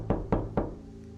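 Three sharp knocks on a door in a New York home, evenly spaced and close, played as a sound effect with no talk over them.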